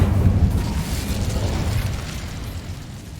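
Incendio fire spell cast in the Hogwarts Legacy video game, a loud, close burst of roaring flame that rumbles steadily and slowly tapers off over a few seconds, with no talk.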